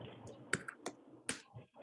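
Someone types on a computer keyboard, a few close, crisp key clicks spaced irregularly over a couple of seconds against a quiet background.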